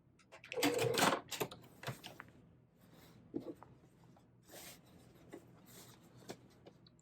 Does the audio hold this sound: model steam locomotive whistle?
no